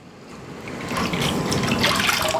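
Water pours steadily into a wide-bottomed wok while cooking chicken, a continuous splashing rush that grows louder and fuller as it goes, with no talking.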